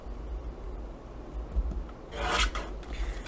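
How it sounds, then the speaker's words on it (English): Paper trimmer slicing the top and bottom off a handmade Christmas card, a short scraping rasp of the blade sliding through card stock, close and fairly quiet, with light rubbing before it. "we're going to get out our trimmer, and we're going to just trim some off the top and the bottom here"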